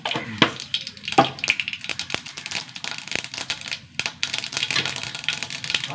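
Mustard seeds crackle and pop in hot oil in a pan, a dense run of sharp, close snaps with a few louder pops, with no voices.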